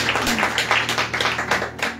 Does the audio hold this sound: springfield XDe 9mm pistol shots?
no